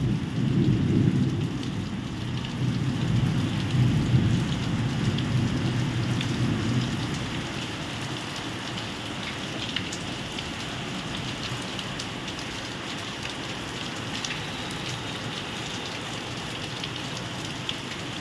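Heavy rain pours steadily with a low thunder rumble in the first half, dense and close, the hiss of rain continuing alone after the thunder fades.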